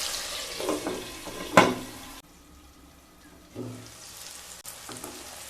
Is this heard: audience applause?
no